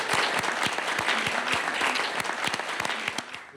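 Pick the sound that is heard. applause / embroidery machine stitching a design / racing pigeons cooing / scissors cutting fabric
applause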